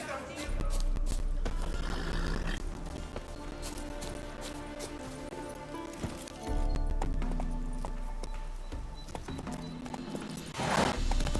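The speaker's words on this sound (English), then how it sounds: "Whoa there, Roach." In The Witcher 3 video game, a horse gallops with a continuous rhythmic clip-clop of hooves over low rumbling game sound, with a brief swell toward the end.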